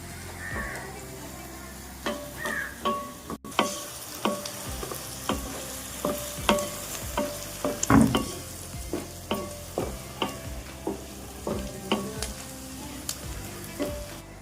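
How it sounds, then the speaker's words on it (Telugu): Curry leaves and curry ingredients frying in hot oil in a pan until browned, a steady sizzle broken by rhythmic scraping strokes of a stirring spoon. "బాగా కలర్ మారేంత వరకు బాగా ఫ్రై చేసుకోండి"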